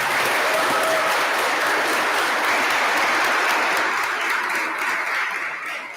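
A large audience at the 2023 C-TEC honors ceremony claps loudly and steadily, the crowded applause holding for several seconds before gradually thinning toward the end.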